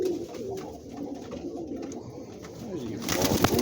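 Breeding pigeons coo in a low, continuous murmur close by, several soft rolling coos overlapping through the clip, with a louder flutter of movement near the end.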